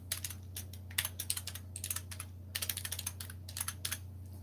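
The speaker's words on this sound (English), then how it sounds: "I'll tell you what I'm typing as I'm typing because this is hard to read." Typing on a computer keyboard during a Linux install setup, with close, crisp key clicks coming in quick irregular bursts and short pauses, no talking.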